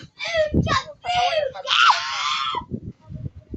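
A child lets out several loud, high-pitched screams in close succession, with the longest near the middle. Low chatter and shuffling follow as people talk nearby.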